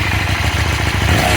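A stock-exhaust 2024 KTM Duke 790 motorcycle idles with a steady, deep, throbbing engine note, close and fairly loud, no talk over it.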